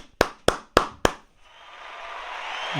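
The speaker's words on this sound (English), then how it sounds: "Can I get an applause?" Four sharp, evenly spaced hand claps close by, followed by a rising wash of cheering and clapping that swells as a group joins in.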